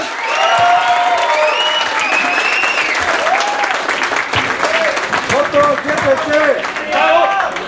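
Loud, continuous audience applause at a rock concert at Mexico's Fonoteca Nacional, dense clapping mixed with cheering and shouted voices throughout.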